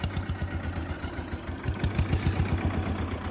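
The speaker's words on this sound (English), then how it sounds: "Hey, water-cooled 2-cylinder. Sitting there running." Water-cooled two-cylinder engine of a Fiat 221 orchard and vineyard tractor idling close by, with a steady, even low chugging pulse that repeats rapidly and continues unbroken with no talk.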